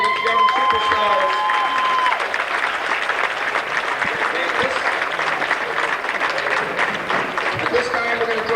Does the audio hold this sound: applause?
yes